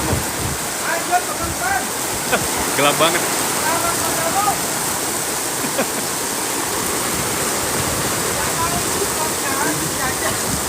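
A heavy rainstorm with strong wind on Jalan Raya Lego Kelapa 2 near Park Serpong roars as a constant, loud wash of rain and gusts, while a voice speaks briefly over it.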